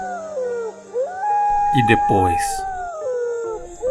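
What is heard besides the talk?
werewolf howling, wolf howl effect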